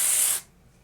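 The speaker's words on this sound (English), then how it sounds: "I just did a really quick little spray" A short, close burst of Living Proof Advanced Clean dry shampoo aerosol spray hissing for under half a second, then cutting off.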